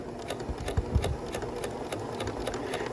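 A sewing machine stitches along the edge of a skirt waistband, running in a steady, close, rapid mechanical patter with faint knocks and quiet room noise around it.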